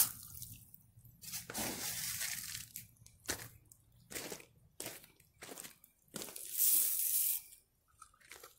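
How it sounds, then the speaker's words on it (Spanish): Water mixed with fertilizer is poured onto garden soil by a tree root, giving a series of splashing, gurgling bursts with short pauses between them, fairly quiet and with no talking. "Con el agua, el fertilizante junto para que se disuelva y penetre ya todo eso."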